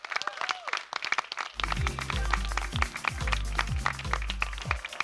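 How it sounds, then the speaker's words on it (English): An audience claps at a Doctoral Derby Finals event, a few scattered claps at first swelling into steady applause, mixed with low rhythmic thumps and background crowd noise. "Another round of applause, please"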